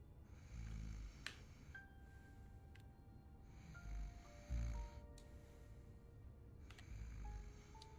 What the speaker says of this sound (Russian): Услышав храп, ты вздыхаешь с облегчением